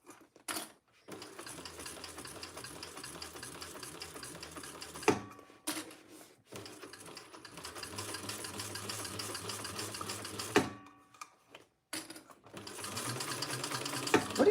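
A sewing machine stitches a quilt in long, steady runs of rapid mechanical chatter, pausing briefly between seams before starting again, close and moderately quiet.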